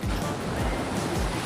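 Ocean waves wash onto a beach in the Philippines in the early morning, a steady loud roar of surf with a low rolling rumble and no speech.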